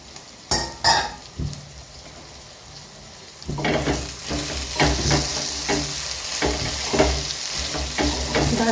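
Soybean curry with fresh coriander cooks in a pan: a few quiet clinks at first, then once the lid is lifted a steady, fairly close sizzle with stirring scrapes and utensil knocks runs to the end, with no talking.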